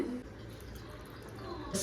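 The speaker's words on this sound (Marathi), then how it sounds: "सध्या मी अजून त्यात थोडंसं पाणी टाकते" Water is poured into a bowl of soaked dosa batter that contains oats, a short, steady trickle of liquid heard close up for under two seconds.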